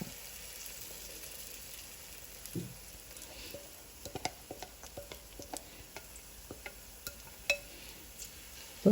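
Banana unniappam frying in oil in an appam pan, a faint, steady hiss broken by scattered small pops and ticks that grow more frequent, heard close with no voices.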